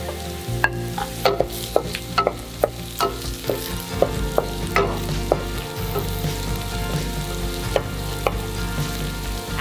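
Chilies frying in a pan of hot oil with lemongrass and bay leaves, a steady sizzle under repeated sharp scrapes and clinks of a spatula being stirred, close and continuous.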